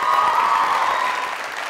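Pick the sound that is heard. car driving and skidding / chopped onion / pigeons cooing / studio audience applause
studio audience applause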